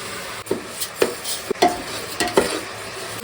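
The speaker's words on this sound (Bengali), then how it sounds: "এইদিকে পাত্র বসিয়ে দিয়েছি এর মধ্যে ডালটা ভেজে নেব" Lentils being dry-fried and stirred in a pot, with a series of sharp scraping stirs at a steady rhythm over a soft sizzle, close and alone without talk.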